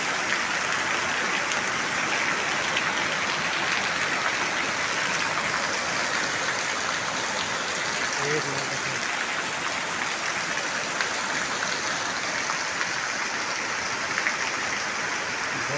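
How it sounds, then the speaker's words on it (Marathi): Heavy rain pours down steadily in a dense, hissing roar that fills the whole stretch without pause, loud and close. "10 मिनिटात एकदम जोरदार तुफान पाऊस आला आहे बघा"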